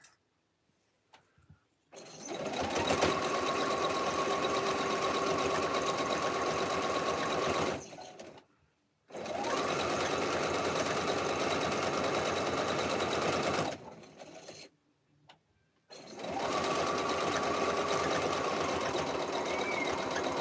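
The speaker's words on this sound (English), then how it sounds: "I'm usually the lurker because I'm busy sewing" Sewing machine stitching rag quilt sampler blocks, three long continuous bursts of fast mechanical whirring separated by brief pauses, fairly close and alone.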